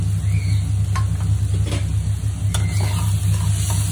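Flour, butter, garlic and chili sauté in a pan for mushroom pasta, a close, steady sizzle under a constant low hum, with a few soft scrapes and clicks of stirring and no voices.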